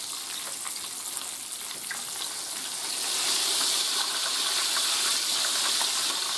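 Steady crackling sizzle of protein-coated chicken frying in hot oil, close up, growing a little louder partway through.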